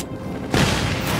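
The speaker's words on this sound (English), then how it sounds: "there's the explosion on this. Gonna blow." A sudden explosion in the video game Just Cause 3 bursts in midway, a loud boom after a quieter rumbling lead-in, then a sustained roaring blast.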